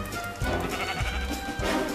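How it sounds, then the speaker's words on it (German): Sheep in the Minecraft video game bleat repeatedly, several close wavering cries in quick succession with no talking. "Und Schafe."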